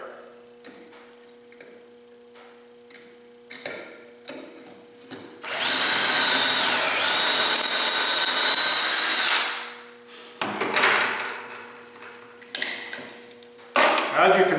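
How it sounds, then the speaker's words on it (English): A power drill guided by a dowelling tool bores a hole in a board, whirring loudly and steadily for about four seconds, with clicks and handling knocks before and after. "proceed to drill your hole in there"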